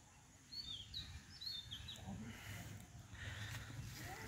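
Birds chirping among heavily fruiting lychee trees in Chitwan, short high tweets and calls scattered over a few seconds above a low outdoor background, fairly faint and distant.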